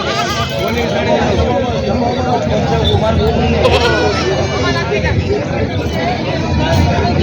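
At a large weekly goat market in Vasmat, Hingoli district, many goats bleat near and far over a dense crowd babble, while someone talks close by.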